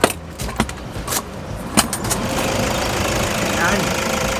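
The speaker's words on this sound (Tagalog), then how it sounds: "kung makakita kayo ng ganitong engine, makakarinig kayo ng ganitong smooth na engine." A 2020 Toyota Hiace engine idles close by. A few sharp clinks and handling knocks come first, then a steady, smooth engine hum holds to the end.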